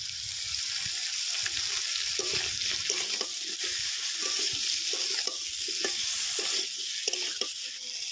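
Mustard oil sizzling steadily in a hot pan while pumpkin greens are cooked with prawns, a dense, loud, close hiss throughout with faint stirring taps beneath.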